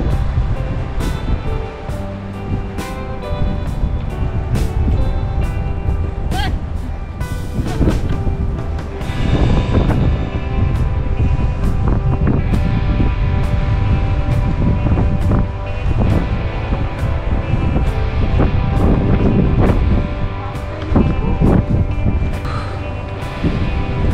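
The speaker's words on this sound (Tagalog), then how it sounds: "Lakas pa ng hangin." Strong winter storm wind in Canada gusts and roars against the microphone, mixed with crashing surf and irregular buffeting bursts throughout.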